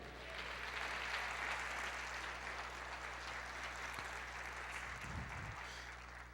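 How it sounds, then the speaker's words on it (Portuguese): Congregation applauding during a church service, steady moderate clapping from many people in a room over a low hum, with a single brief thump near the end. "Aplauda o Senhor, diga eu creio."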